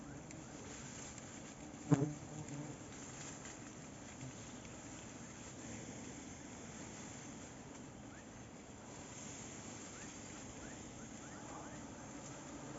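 A faint, steady buzz of wasps hovering around a nest forming its white comb, low and continuous against outdoor background noise, with one brief louder knock near the start.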